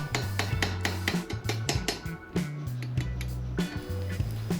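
Nail head used as a punch to hammer a brake caliper pin out, producing a rapid series of sharp metallic knocks and ringing taps, loud and close, in an uneven rhythm throughout.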